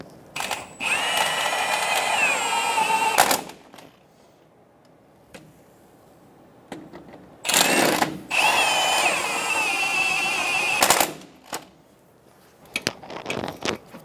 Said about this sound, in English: Install the shock bolts on the bottom. Snug the bolts down.